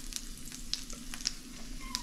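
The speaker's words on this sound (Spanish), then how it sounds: "Voy a poner a freír el ajito que tengo aquí finamente cortado." Finely chopped garlic frying in a pan, a continuous soft sizzle close by with several sharp little pops and crackles spread across the moment.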